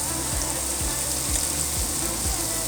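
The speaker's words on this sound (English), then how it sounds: "So cook the onions" Onions frying in a pot for zuppa toscana, giving a steady close sizzle with a few soft periodic scraping or stirring knocks, and no voices.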